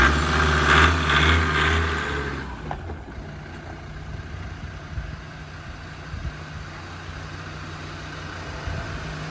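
Land Rover Defender 90 engine idling nearby with a steady low rumble, louder at first and then settling into a quieter, even idle.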